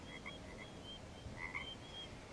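Frogs croak and chirp in quick repeated bursts, faint and a little distant, over a soft steady background hiss.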